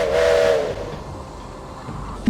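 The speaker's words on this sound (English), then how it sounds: "That's cool, you can actually control the whistle." A steam locomotive whistle in the Railway Empire video game, Japan setting, gives one loud sustained blast that fades to a low rumble, with a brief sharp sound at the very end.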